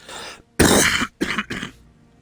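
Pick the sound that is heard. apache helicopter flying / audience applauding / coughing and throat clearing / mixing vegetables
coughing and throat clearing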